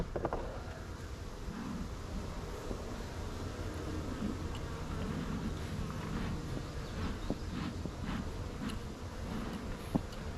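Honeybees from a weak hive buzzing around the open box during an inspection, a steady dense hum close to the microphone with occasional louder passes of individual bees.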